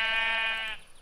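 A pink sheep in the Minecraft video game gives a single drawn-out bleat, loud and close, with no talking over it before it cuts off.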